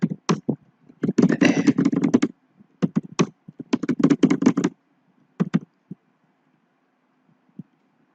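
Typing on a computer keyboard while preparing a LaTeX document, heard as close bursts of rapid key clicks separated by short pauses, then a few isolated taps toward the end, with no talk.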